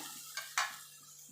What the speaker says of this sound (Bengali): এবার ভালো করে কষিয়ে নেবো যতক্ষণ মশলা থেকে তেল না ছেড়ে আসবে